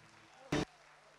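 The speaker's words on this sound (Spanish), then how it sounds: "todos los aplausos para estos jovencitos" A short burst of audience applause for young folk performers at a folk music event, a single loud clap of sound lasting a fraction of a second between quieter stretches.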